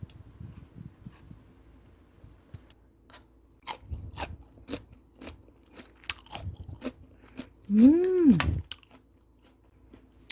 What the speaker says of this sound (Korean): 아삭아삭 소리도 들리지